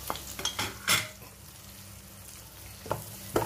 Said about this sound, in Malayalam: കാരറ്റും തേങ്ങയൊക്കെ ഒന്ന് മൂപ്പിച്ചെടുക്കാം